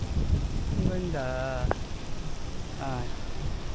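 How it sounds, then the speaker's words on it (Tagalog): Rain falls outdoors in Singapore near Marina Bay Sands, a steady soft hiss of drops in the open air, with voices talking briefly over it. "May ulan din dito."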